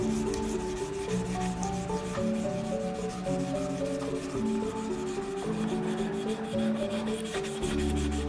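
Sandpaper rubs back and forth along a rusty knife blade in steady, repeated strokes. The scraping is close and continuous, with no talk over it.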